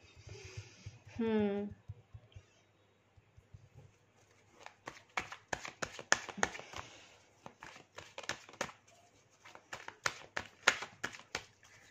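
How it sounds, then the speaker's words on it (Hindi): Tarot cards being shuffled and drawn, a dense run of quick crisp riffling snaps close by that follows a brief burst of other sound. "मैं आप लोगों के लिए गाइडेंस के लिए भी कार्ड्स निकाल लेती हूँ आप लोगों के सामने"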